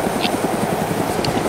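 A helicopter in the video game ArmA 2 DayZ thrums steadily, its rotor beating in a fast regular pulse, loud and close, with no talk over it.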